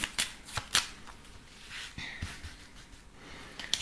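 A deck of cards shuffled for a daily tarot reading: close riffling bursts and sharp flicks of the cards, the shuffling uneven with quieter gaps between the louder strokes, no voice.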